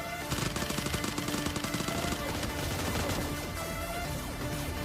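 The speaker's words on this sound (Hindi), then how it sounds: "और भाई पीछे से कोई M249 टैप चला रहा था सिंगल पे" An M249 fires in rapid shots in the video game PUBG Mobile Lite, with dense cracking volleys at first that then continue at a slightly thinner pace, loud against busy game sound.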